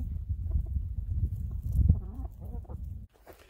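Chickens in a wind-damaged pen give soft clucks and low murmurs over a busy, rustling background, fairly close and moderately quiet, with occasional brief calls and shuffling.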